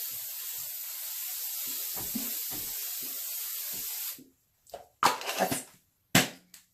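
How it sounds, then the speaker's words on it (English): A can of Merle Norman hairspray is sprayed onto short hair in one long, close, steady hiss lasting about four seconds. A few soft taps and handling clatters follow in the quiet after it. "I don't use hairspray"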